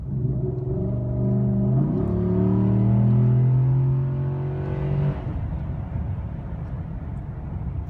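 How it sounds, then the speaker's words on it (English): A 2014 GMC Sierra with a 6.2L V8 and a cold air intake accelerates hard from about 40 mph, its loud engine note rising steadily in pitch for several seconds before easing off into a steady cruising rumble. "Here we go from about a 40 mile an hour with a hard acceleration."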